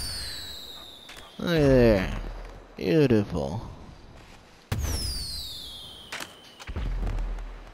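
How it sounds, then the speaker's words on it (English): A fireworks show in the video game GTA 5 sends up rising whistles that end in crackling, booming bursts, some close and loud, while someone talks briefly over them. "We're going to do a little fireworks show here."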